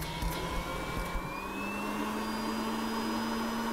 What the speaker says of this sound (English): you heard about it, the vacuum cleaner.